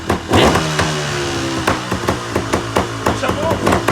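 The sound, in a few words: vehicle engine being started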